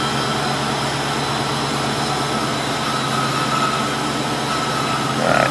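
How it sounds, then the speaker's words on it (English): A cold Chevy/GMC truck engine running lean idles in a continuous loud, steady drone with a broad whooshing hiss and faint whining tones, unchanging throughout. "Trucks make all kinds of weird noise when they're cold."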